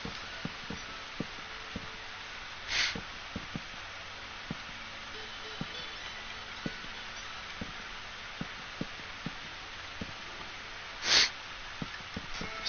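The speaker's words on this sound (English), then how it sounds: "Sorry for the sniffling and possibly sneezing if I do." A person sniffles with a cold, giving two short, sharp nasal sniffs several seconds apart over quiet background with scattered soft clicks.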